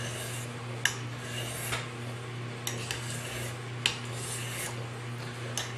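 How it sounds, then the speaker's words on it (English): A blade scrapes against a sharpening stone in repeated gritty strokes, fairly quiet and close, over a low steady hum. "Now I'm actually really sharpening what I just redid."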